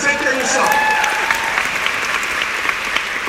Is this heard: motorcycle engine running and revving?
no